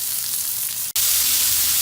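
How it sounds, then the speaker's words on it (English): Loud, steady sizzling of T-bone steaks searing on a hot Blackstone griddle, a hissing crackle broken by a brief dropout midway. "Listen to that sizzle."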